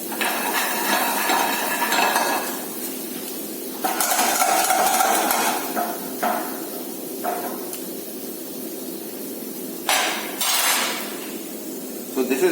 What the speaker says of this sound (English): I am adding the mirpur to the pan while adding these vegetables